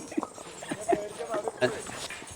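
Horse hooves clip-clop in a steady walking rhythm during a horse ride, close by, with people talking over the hoofbeats.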